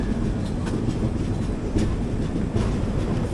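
The Kondaveedu Express rolls slowly toward a station, a steady, loud rumble of wheels and carriages with faint rhythmic clicks over the rails, heard from on board.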